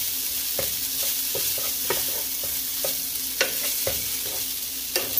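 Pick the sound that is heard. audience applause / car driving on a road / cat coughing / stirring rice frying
stirring rice frying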